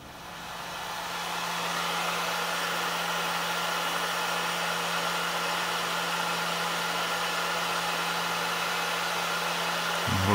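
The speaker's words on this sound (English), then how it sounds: "Maybe I will use my heat gun and heat it up." A heat gun blows hot air in a steady, loud, continuous whoosh with a constant low hum underneath, running unbroken for the whole stretch while working on a model ship, with no talking.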